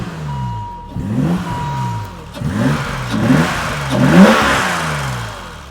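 A BMW 635CSI's M30 engine revs up repeatedly in loud, close bursts, each swell rising and falling back in a rhythmic series of four or five blips, no talk over it.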